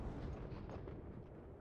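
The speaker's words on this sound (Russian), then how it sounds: "охренеть, сколько взрывов просто." Explosions and heavy battlefield booms in the World War II shooter game Enlisted rumble continuously as a dense, loud wall of blasts, with no talk over them.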